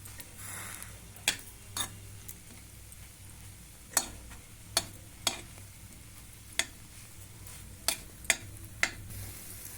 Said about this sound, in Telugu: ఇగో ఈ విధంగా బటర్ వేసి ఎంచుకోండి